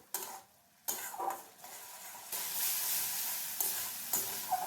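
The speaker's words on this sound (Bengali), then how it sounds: "বেশ ভালোভাবে এটাকে কষিয়ে নিচ্ছি" Ginger and spices sautéing in a pan for an eggplant dish, with a steady sizzle and occasional scrapes of a utensil stirring, fairly quiet and close.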